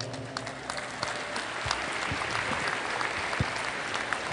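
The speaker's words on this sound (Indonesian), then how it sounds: "Kita beri tepuk tangan untuk Bapak Profesor Kambuaya" An audience at a formal event applauds steadily for a professor after a presentation, with dense, sustained clapping throughout.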